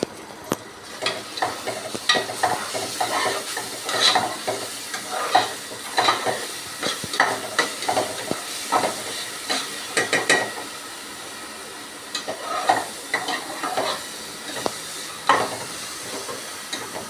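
Ginger-garlic-coriander paste fries with cinnamon, pepper and cardamom in a pan for mutton gravy, a steady sizzle broken by repeated scraping stirs of a spoon, close and moderately loud, with no talking.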